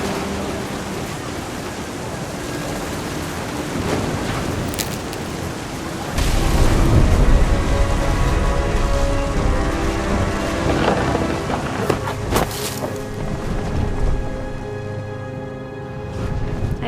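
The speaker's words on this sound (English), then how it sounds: "The thunder sounded much too close and full of angry power" A thunderstorm in the video game What Remains of Edith Finch: steady heavy rain hiss with a loud rolling thunder rumble swelling partway through, then sharp crackles and fading rumbles.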